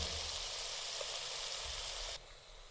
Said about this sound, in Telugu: దీంట్లోనే కొంచెం పసుపు అలానే మనం గ్రైండ్ చేసుకున్న ఆనియన్, టమాటో దినుసులన్నీ వేసుకున్న పేస్ట్ వేసేసుకొని ఫ్రై చేసుకుందాం.